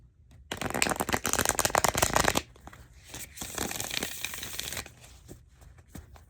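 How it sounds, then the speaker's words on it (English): A deck of playing cards is shuffled in close, crisp riffling bursts, first a loud dense run and then a lighter, more scattered second pass with separate flicks and taps. "One more shuffle."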